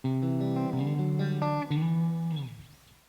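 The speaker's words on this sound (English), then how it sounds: "What you're hearing right now is the guitar and the internal amp." An Enya Nova Inspire guitar plays through its built-in internal amp, a few ringing notes and chords picked in succession, sustaining clearly up close before fading away at the end.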